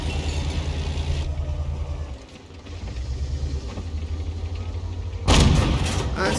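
Tank gunfire from a video game battle, with a tank firing armor-piercing rounds: low engine rumble gives way to a sudden loud, sharp cannon blast near the end, with the blast's roar trailing off.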